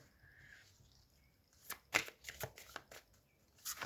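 Tarot deck being shuffled at close range, a quiet rustle first, then a series of crisp riffling snaps and slaps of cards in uneven bursts, with no talking.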